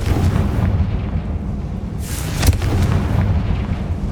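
A Confringo fire spell blasting in the Hogwarts Legacy video game, a loud booming explosion over a steady rumbling game soundscape, with a sharp burst partway through.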